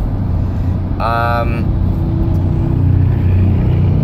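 A 1997 Ford Expedition cruises on the highway, its engine and road noise a steady, loud interior drone with a brief tonal whine partway through.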